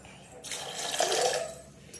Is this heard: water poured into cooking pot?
yes